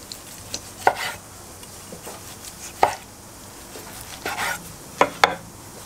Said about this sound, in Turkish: Şöyle bunları da bir dilimleyelim